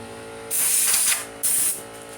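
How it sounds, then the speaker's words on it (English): Two short hissing bursts of compressed air blow debris off weed eater parts nearby, each lasting under a second with a brief pause between. "Blow everything off here."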